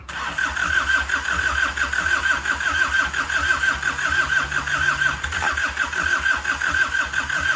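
A mechanic's engine cranks and catches, then runs steadily at a loud, close idle with a continuous mechanical drone and no voices over it.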